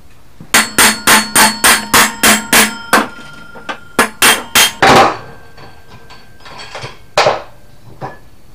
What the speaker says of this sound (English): just put the nut back on it and hit it with a hammer right here